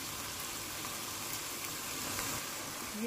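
Cabbage fried rice sizzles and fries steadily in a hot pan as soy sauce and vinegar are added, a continuous bright crackling hiss with a brief spatter near the end.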